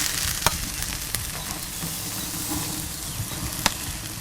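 Ribeye steaks sizzle on an opened Kamado Joe grill, a steady close crackle and hiss broken by a few sharp clicks and taps.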